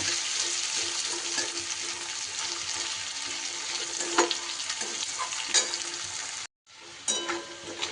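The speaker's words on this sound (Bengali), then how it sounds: "আলুর সাথে পেঁয়াজটাকেও খুব সুন্দর করে আমি লাল লাল করে ভেজে নেব" Potatoes and onions fry in a pan with a steady, close sizzle and occasional stirring scrapes, briefly cut off near the end before resuming.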